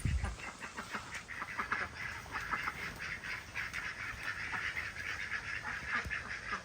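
Ducks and geese in an orchard quack and honk in a steady, busy chorus, close and moderately loud, with calls overlapping throughout.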